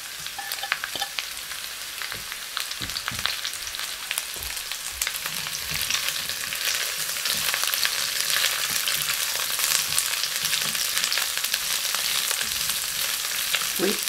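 Chopped onion fries in a hot pan for a beef and pork spaghetti guisado, giving a continuous, even sizzle that swells slightly over time. Faint scrapes of stirring sound now and then, and no one speaks.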